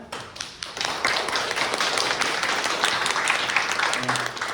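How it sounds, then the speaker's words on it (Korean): An indoor audience at a Korean National Assembly forum gives a steady round of applause for a speaker, dense close clapping that holds evenly for several seconds. "박수 부탁드리겠습니다"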